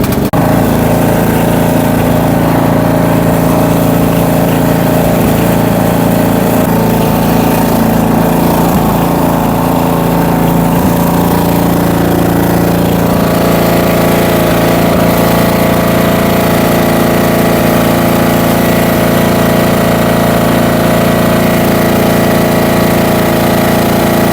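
A lawn mower engine idles while warming up before cutting, a loud, steady close-range drone that holds an even pitch for the whole stretch with no talking.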